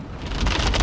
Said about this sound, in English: The rain is real, y'all, and it's hailing a little bit